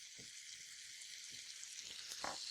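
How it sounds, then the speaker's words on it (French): Pancetta pieces fry in olive oil in a pan, giving a steady, close, bright sizzle with a few soft stirring knocks and a slight rise in crackle near the end; no one speaks. "On laisse simplement la pancetta griller quelques minutes"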